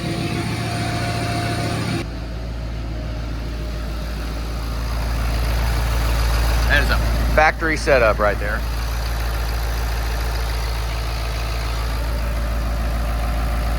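A Ford 6.7 PowerStroke diesel truck engine idling steadily, a deep continuous rumble that sits close and loud for the whole stretch, with someone talking briefly over it partway through.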